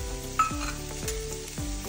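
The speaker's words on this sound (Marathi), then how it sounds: "टोमाटाय बरी अशी मऊ जायसर भाजून घेवपाक जाय" Chopped tomatoes fry with softened onions in a pan, a steady sizzle under a few scraping stirs of a spoon, close and fairly quiet with no talking.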